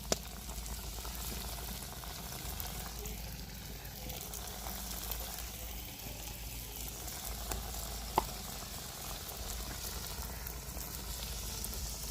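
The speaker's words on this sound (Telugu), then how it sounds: "పక్కన నూనె కూడా వేడి అవుతా ఉంది మరి ఫ్రై చేస్తాం" Steady hiss and crackle of food frying in hot oil, continuous and fairly quiet, with no talking.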